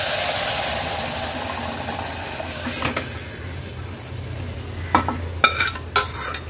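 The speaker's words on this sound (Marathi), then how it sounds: "हे शिजवलेली मुगाची डाळ आहे ना फोडणीला घालणार आहोत। व्यवस्थित मिक्स करून घ्यायचे।" Cooked moong dal stirred into a sizzling tempering with turmeric in a saucepan. A steady close frying hiss runs throughout, with a few sharp scrapes and clinks of the spoon toward the end.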